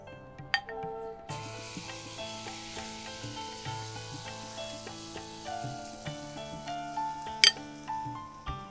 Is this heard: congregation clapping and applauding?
no